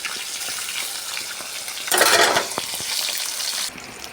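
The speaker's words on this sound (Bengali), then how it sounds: "কাতলা মাছ ছেড়ে দিচ্ছি।" Pieces of catla fish marinated with chili, turmeric and salt sizzle steadily in hot oil, with a louder hissing burst midway as more fish goes in, then a quieter crackle to the end.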